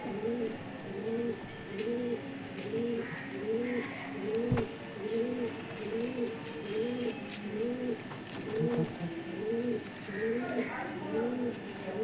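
Continuous low, rolling coos from Madrasi and Star Kalanka pigeons repeat in an even rhythm near at hand, with several birds overlapping and a brief sharp knock partway through.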